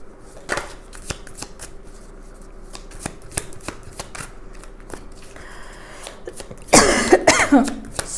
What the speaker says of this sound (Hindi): मेरा खांसी है मुझे थोड़ी